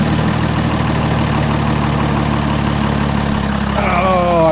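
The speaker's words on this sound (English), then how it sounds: "But we'll do a cold start." Truck engine cold idling, a steady close rumble with dense low harmonics running evenly throughout, rising slightly near the end.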